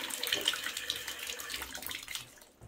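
Water pouring from a bathroom bath and shower mixer tap in a chateau, a steady close splashing rush that cuts off near the end.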